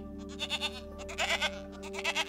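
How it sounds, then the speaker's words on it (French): A herd of goats bleats repeatedly, with several overlapping wavering calls in quick succession over a steady tonal hum. "pourquoi toutes ces chèvres-là?"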